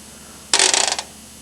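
Zydeco scrubboard (rubboard) scraped in a quick burst of about half a second, a bright metallic raspy rattle with several rapid accented strokes, close and loud, then silence.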